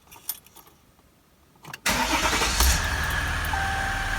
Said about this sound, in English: Please start engine.